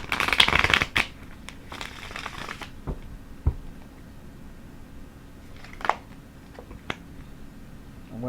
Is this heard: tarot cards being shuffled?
yes